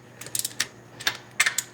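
Torque wrench tightening wheel lug nuts after a front brake job, a series of quick sharp ratcheting clicks in short bursts, close and fairly loud with no talk.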